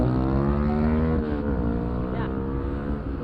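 Motorbike engines at a street bike meet-up in Dhanbad, Jharkhand, as riders attempt wheelies: a loud, continuous multi-engine drone with the pitch dipping and shifting, close by and with no speech over it.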